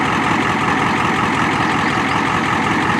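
A 1993 Ford F-250 with a 7.3 IDI diesel and a modified muffler idles close by, giving a loud, steady, rough rumble with a dense rattling clatter that holds unchanged throughout, no talking.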